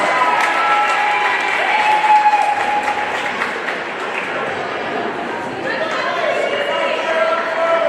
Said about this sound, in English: Let's give a big round of applause for our honorary captains, Ava and Adeline Whitledge